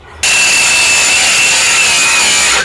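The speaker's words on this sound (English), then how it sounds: "I'm gonna have to cut the top of these off" A saw starts abruptly and cuts steadily at close range through the tops of metal towbar brackets on a Skoda Felicia pickup, making a harsh continuous rasp with a faint high ringing tone.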